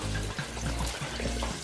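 Filtered water pouring into a container being filled for soaking sea moss, a steady close rushing splash with slight gurgling variations.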